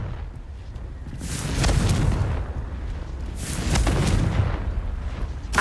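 Two heavy booming blasts from the Confringo fire spell in Hogwarts Legacy, each a broad low roar that swells and fades, spaced about two seconds apart with no talk.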